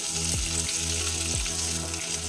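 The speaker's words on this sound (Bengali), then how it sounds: "মিডিয়াম ফ্লেমে ডিম ভাজলে ডিম ভাজা খুব ভালো হবে।" Duck eggs frying in spiced oil in a kadai over a medium flame, a steady, loud, continuous sizzle throughout with a couple of brief sliding scrapes, close by and with no talk.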